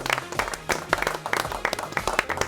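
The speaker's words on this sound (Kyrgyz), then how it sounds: "Бир кол чаап коелу жалпы оюн үчүн." A live audience applauds at the close of a team game on a televised quiz show, a steady burst of dense clapping that runs for about two and a half seconds with no speech.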